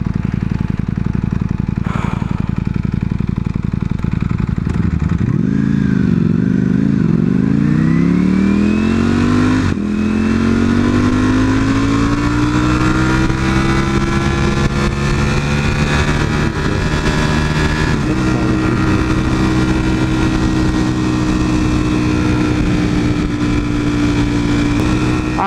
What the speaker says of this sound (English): Ooh, AMG GT